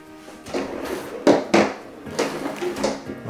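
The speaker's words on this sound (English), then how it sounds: "All soft closed doors and drawers." Soft-close cabinet drawers and doors in a laundry room with lower cabinetry and quartz countertops slide and settle, several muted thuds and wooden knocks spread over a few seconds, close and fairly clear.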